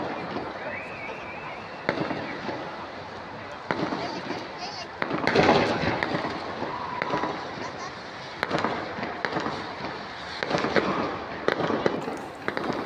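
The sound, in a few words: fireworks display over Darling Harbour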